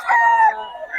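A rooster crows once, close and clear, at a poultry seller's stall in Bocaue, the call rising and then trailing off in just over a second.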